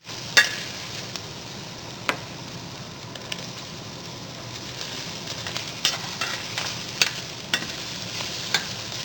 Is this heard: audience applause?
no